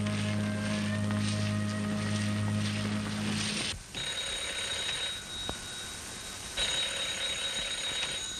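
A doorbell in a 1933 film rings insistently, sounding as a loud, sustained electric ring that stops abruptly partway through, followed by quieter room tone with faint tonal traces.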